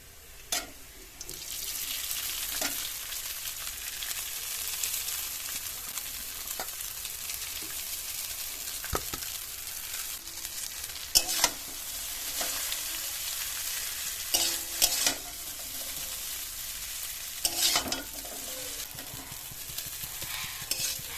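Chow mein frying in a pan with onion and green chilli, a steady sizzle under intermittent spatula stirs and scrapes, close up, with no one talking.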